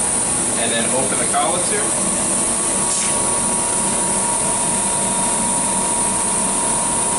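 Royal Master needle grinder finishing a grind cycle on a trocar needle, giving a loud, steady machine whir and hiss that runs continuously, with someone talking briefly over it near the start.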